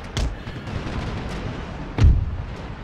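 Ship cannon fire from Empire: Total War, two heavy booming shots about two seconds apart, the second louder, over a steady rumbling battle bed with no talk.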